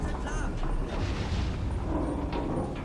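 Muffled explosions rumble and boom continuously around a sinking submarine in the naval warfare game Silent Hunter 3, forming a dense, loud low roar with scattered mechanical clanks and no clear gaps.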